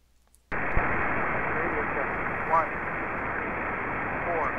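AM reception on a Cobra 148 GTL ST CB radio at CB frequencies: after a brief quiet start, a loud, steady wash of static hiss sets in and persists, with faint warbling whistles drifting through it.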